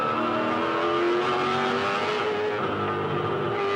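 Loud, continuous engine note of a 2007 V8 Supercar accelerating hard out of a corner at the Queensland 300, climbing up through the gears toward fifth with a steadily rising pitch, heard up close from inside the car.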